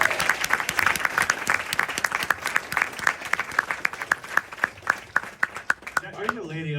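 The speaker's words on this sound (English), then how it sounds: "So give them another round of applause." A premiere audience claps for a film crew at a Q&A, with rhythmic, distinct hand claps over a crowd wash that thin out before a voice starts speaking at the end.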